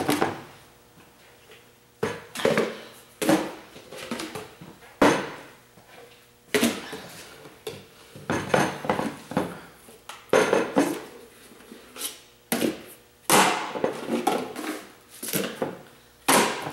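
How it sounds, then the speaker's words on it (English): A series of sharp knocks and thumps, irregular and close, with rustling in between, as sawdust is knocked out of plastic bags. "I'm knocking the sawdust out of them from where we've been sawing"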